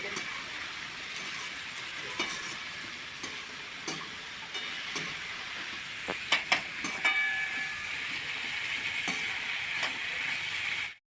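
Onion and tomato sizzle steadily in a hot pan, with scattered clicks and stirring taps over the constant hiss.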